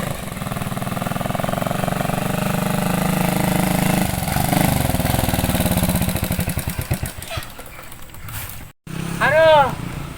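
A motorbike engine runs at a repair workshop in a Sundanese comedy sketch: a loud, steady rough drone breaks into a chugging, sputtering rhythm before cutting out briefly, then picks up again with a voice over it.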